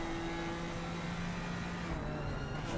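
GT4 track day car engine at Silverstone in the Assetto Corsa Competizione racing video game, a steady droning engine tone with a sustained pitch, held fairly constant throughout at moderate loudness.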